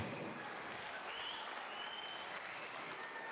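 Steady, dense applause from a crowd at a wedding celebration in a restaurant hall, sustained and even throughout, heard from some distance.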